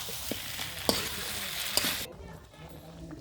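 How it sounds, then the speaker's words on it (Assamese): Mutton pieces with potatoes and spices sizzle and crackle in a hot pan, steady and close, with occasional stirring knocks before the sizzle drops away sharply near the end. "আৰু মাংসখিনি ভাজি ল'ম।"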